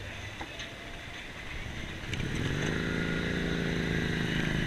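A Harley-Davidson LiveWire electric motorcycle launches hard, its steady whine rising abruptly and then holding a sustained, fairly loud electric drone with road and wind noise.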